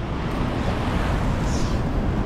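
Målselvfossen waterfall roars with rushing water, a dense, loud, steady broadband wash filling the whole moment without pause.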